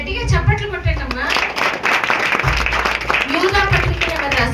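A group claps along after a Bible quiz answer, bursts of hand claps mixed under loud voices and chanting that dominate the scene.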